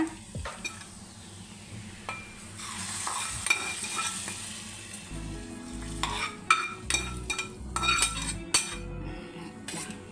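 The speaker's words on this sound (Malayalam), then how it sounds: "വറവ് അങ്ങോട്ട് ചേർത്ത് കൊടുക്കുക" Hot tempering is poured into a simmering curry, giving a rushing sizzle, followed by a spoon scraping and clinking against the pot as it is stirred in. Several sharp metal knocks come near the end, and no one talks.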